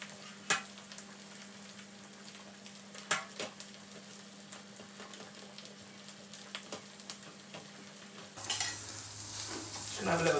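A lamb burger patty sizzles in a pan, a low continuous frying hiss broken by occasional clicks and utensil taps, with a louder clatter near the end.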